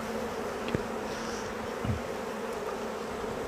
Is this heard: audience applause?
no